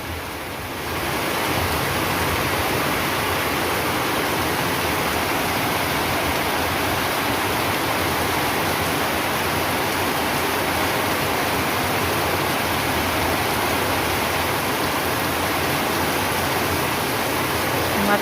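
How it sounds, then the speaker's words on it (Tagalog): Heavy rain roars steadily and loudly, a dense continuous wash of noise that starts abruptly and never lets up. "Yan, ang lakas ng ulan"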